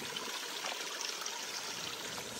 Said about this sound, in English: So as you can see, the water's coming out.